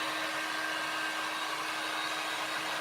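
A hair dryer blows steadily while drying a reverse canvas craft project, a close, even whirring rush with a constant motor whine and no pauses.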